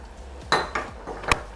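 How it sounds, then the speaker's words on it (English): Peppered kpomo with pepper and onions is stirred in a metal pot, producing a few close, sharp clinks and scrapes of a utensil against the pot in quick succession, with no talking. "Give it a good mix."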